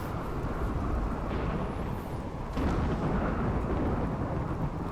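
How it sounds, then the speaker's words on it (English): Rain and thunder in the game Rimworld: a continuous heavy rain hiss under a low rumbling roll of thunder that swells partway through, with no voices. "Especially with all this rain."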